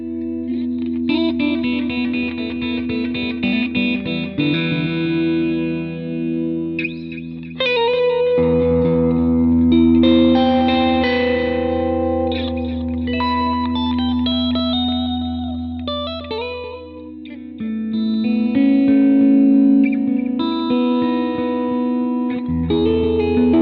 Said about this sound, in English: we just heard some clean tones from each guitar there